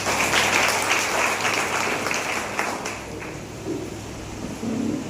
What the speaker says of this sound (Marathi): टाळ्या वाजून अभिनंदन.